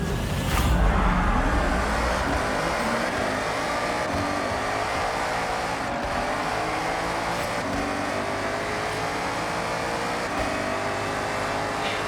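Ford Mustang engine racing in Forza Horizon 6, a steady loud drone of a car at sustained high revs, with a faint roar near the start and no talking.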